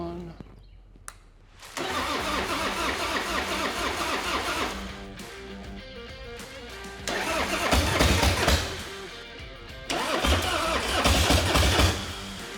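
A chopper motorcycle engine cranks repeatedly with the fuel and choke on but fails to start, in three loud churning bursts separated by pauses, heard up close with a voice speaking nearby.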